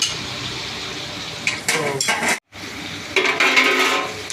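Ivy gourd for a large batch of restaurant-style thoran frying in a pan, with loud scraping and stirring clatter of a spatula against metal in bursts and a brief silence midway, with no talk.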